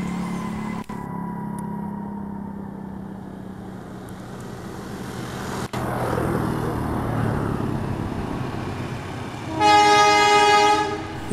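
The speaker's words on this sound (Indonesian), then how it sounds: "Itu dia kereta api Pasundan sudah mulai melintasi jembatan Cirahong." The Pasundan passenger train, hauled by a CC203 diesel locomotive, crosses the Cirahong bridge with a swelling rumble of wheels and engine. It ends in a loud, sustained horn blast near the close.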